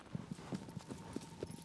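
Horse hooves galloping in the video game Shadow of the Colossus, a quick, even run of soft clip-clop beats at moderate distance with no voices.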